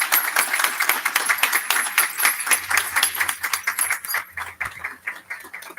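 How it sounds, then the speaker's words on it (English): An audience at a Board of Education meeting claps together in a dense, steady round of applause that thins out and fades near the end. "And everyone give them a round of applause."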